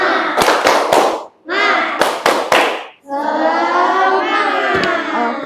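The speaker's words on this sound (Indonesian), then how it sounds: "Bagaimana kalau kita tepuk semangat terlebih dahulu?" An Indonesian class performs the tepuk semangat clapping chant, sharp group claps in short rhythmic bursts alternating with loud chanted voices, ending in a long shout.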